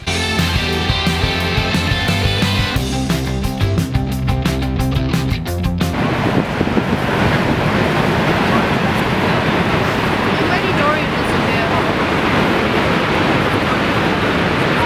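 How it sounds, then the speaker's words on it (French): Niagara Falls roars as a loud, steady wash of water noise; in the first seconds it is mixed with rhythmic clattering and tonal noise, and then it becomes a continuous broadband rush. "on a quand même pu aller derrière les chutes du Niagara. Franchement, c'est vraiment impressionnant."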